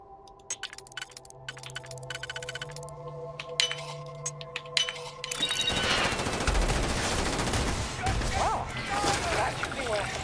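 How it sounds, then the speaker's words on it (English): An explosive shotgun fires in Starfield, with a few sharp shots early on and then a heavy, sustained blast and rumbling roar of combat noise, close and loud, with someone talking over it. "This is where I need my explosive shotgun."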